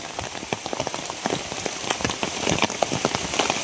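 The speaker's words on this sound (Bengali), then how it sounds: "বৃষ্টি আবারও বাড়তেছে আস্তে আস্তে।" Rain pours steadily on surfaces near a riverbank, a dense patter of drops that grows a little heavier, with no talking.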